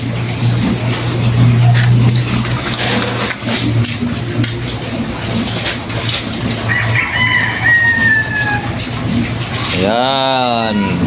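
Chickens on a farm at feeding time, a busy flock clucking steadily with a crow rising near the end, loud and close, with a person's voice mixed in at times.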